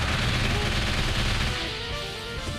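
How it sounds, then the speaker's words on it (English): A proton cannon fires in a video game, a dense, sustained roaring burst of energy fire that is loud at first and then tapers slightly toward the end. "Proton cannon."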